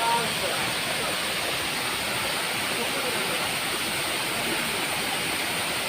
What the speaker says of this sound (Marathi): आमच्या दोनिवड्यात हा ब्राह्मणदेव धबधबा आहे